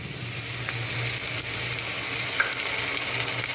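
Onion, ginger and garlic fry steadily in a chicken biryani pot, a soft continuous sizzle with occasional light stirring clinks, close and quiet with no voices.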